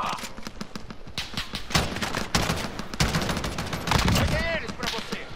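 Gunfire in Call of Duty Warzone on Rebirth Island: rapid bursts of automatic weapon fire and sharp individual shots crackle close by, mixed with game effects and chatter from players.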